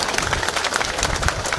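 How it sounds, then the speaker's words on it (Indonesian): A crowd at a speech by a regent in Sumba claps briefly, scattered hand claps blending into a dense patter close by. "Kok masih susah sekali tepuk tangannya?"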